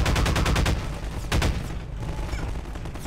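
Rapid automatic gunfire in Half-Life 2, a loud burst of closely spaced shots for about a second, then a second short burst, trailing off into quieter rumble with no talking.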